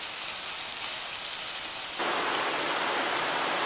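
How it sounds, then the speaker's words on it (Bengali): Finely chopped onion frying in a hot pan gives a steady, close sizzle that jumps noticeably louder and brighter halfway through and holds there, with no talking. "সেটাকে আমি দিয়ে দিলাম। নাড়িয়ে চাড়িয়ে 2 মিনিটের জন্য ভেজে নেব।"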